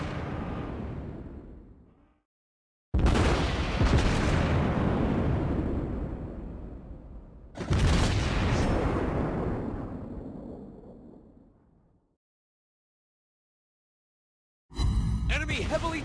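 Naval gunfire from the battleship Kii in WoWS Blitz lands on a target, three heavy booming salvos with long rumbling decays separated by silences, followed by a sharp burst at the end.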